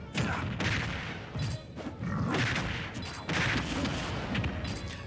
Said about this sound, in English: Explosions literally everywhere.